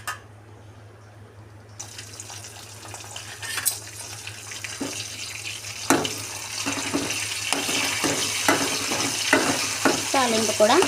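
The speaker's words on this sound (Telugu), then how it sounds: "తాలింపు కూడా వేగిపోయింది." Sambar tempering sizzles in hot oil in a pan, quiet at first and then louder and busier, with bursts of crackling spatter and stirring scrapes close by.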